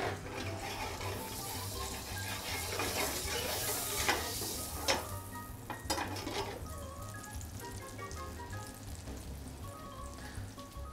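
Potato and cheese pierogi fry in olive oil and butter in a pan, giving a steady, close sizzle with crackling spits and a few clinks of utensils, with no talking.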